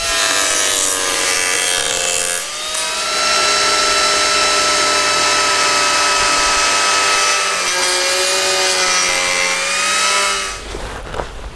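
An Arbortech TURBOPlane power carving tool trims the bottom of a solid wood tray, a loud continuous whining grind with steady rasping, briefly easing off midway and stopping at the end.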